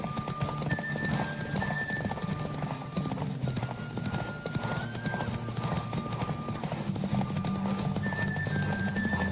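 Rapid, steady hoofbeats of a galloping horse in The Witcher 3: Wild Hunt, with a whinny and background music throughout.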